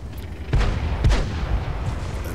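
Tank cannon fire in World of Tanks from a Russian T-54 medium tank, two sharp booming shots about half a second apart, close and heavy, then a fading rumble.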